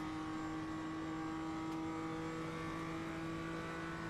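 Race cars bunched in a slipstream pack on the Monza home straight with historical banking in iRacing, a steady droning engine tone holding constant throughout with no talk over it.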